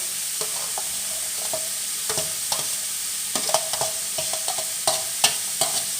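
Pork stir-fries with long beans, onion and carrot under a constant hissing sizzle, punctuated by sharp spatula scrapes and taps against the pan at an irregular pace.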